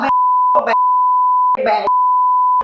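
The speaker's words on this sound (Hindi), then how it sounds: "अबे बीप बीप क्यों कर रहा है?" A loud, steady censor tone repeatedly covers a man's speech in a comedy sketch about a cricket fan, the long pure beeps broken only by short bursts of talking between them.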